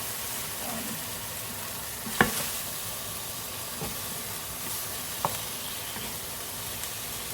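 Pork ribs brown quickly in a hot pan, giving a soft continuous sizzle and hiss of frying meat, with a few sharp clinks of a utensil against the pan scattered across the steady background.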